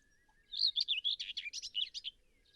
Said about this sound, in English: it's quite a scratchy little warble